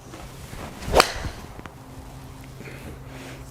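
A Titleist T300 iron strikes a golf ball in a single sharp, loud crack with a slightly hollow tone, followed by quiet ambient background.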